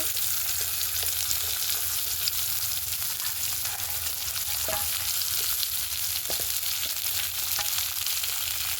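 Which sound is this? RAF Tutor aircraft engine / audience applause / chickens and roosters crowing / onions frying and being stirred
onions frying and being stirred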